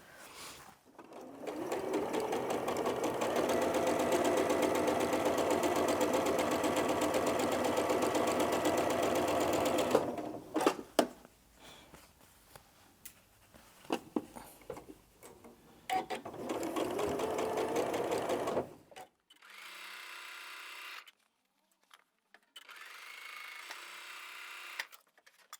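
A sewing machine stitches pieces of a Broken Sugar Bowl quilt block, running in a steady loud whir for about ten seconds, then starting and stopping in shorter bursts with brief pauses.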